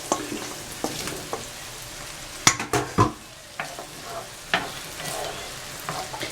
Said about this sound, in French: Et là, je vais rajouter les olives.